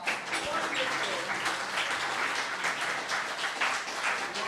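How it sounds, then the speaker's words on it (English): Audience applause at an evening creativity event, a full, steady round of clapping from a crowd with a voice faintly audible beneath it, sustained throughout. "A very loud round of applause"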